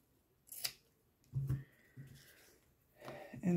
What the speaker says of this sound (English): on my fabric scissors, cut these to reduce the bulk at the corners